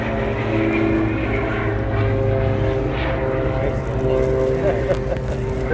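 An Extra 300 aerobatic propeller plane performs a display at the Farnborough International Airshow, its engine droning steadily and loudly throughout, with steady tonal propeller hum and a commentator's voice over it.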